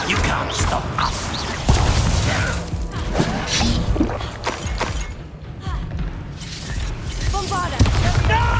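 Confringo blasting spells in Hogwarts Legacy combat: repeated thumping booms and crashes with shattering debris in a busy battle mix, while voices shout over the chaos.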